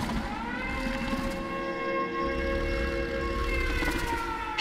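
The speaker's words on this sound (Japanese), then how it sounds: "就業のサイレンよ。" A steady wailing siren in the video game Killer is Dead drones continuously, loud and even, with a faint rising-and-falling tone over a rumbling background.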